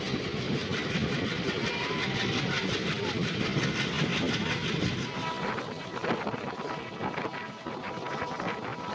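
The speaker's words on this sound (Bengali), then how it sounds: "ট্রেন আমাদের ছাড়লো, দেখো মিডিল লাইনে দিয়েছে" A train pulled by an Alco locomotive departs a station. It makes a continuous, loud, close rumble with a faint rhythmic clatter of wheels running over the rails.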